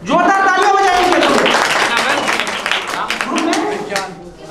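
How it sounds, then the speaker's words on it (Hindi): A quiz audience gives a group a round of applause: a burst of many hands clapping together under a presenter's voice. It fades over several seconds. "जोरदार तालियां बजाइए"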